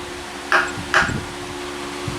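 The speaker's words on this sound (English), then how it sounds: "they're using the wood part, bouncing the hammer" Two sharp metallic taps about half a second apart as a hammer's wooden part strikes a Chevy V8 engine knock sensor, over a steady mechanical hum, followed by faint rattling.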